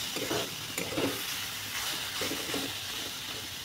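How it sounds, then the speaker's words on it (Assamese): Leafy greens stir-fried in a pan, with a soft continuous sizzle and a few light scraping stirs at a moderate distance. "তো এয়া মোৰ শাক ভাজি হৈ গ'ল"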